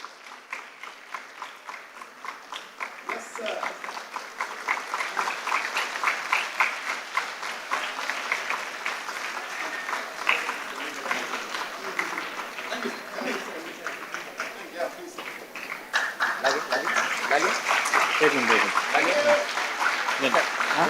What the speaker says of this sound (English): Please join us a round of applause for Kudroli Ganesh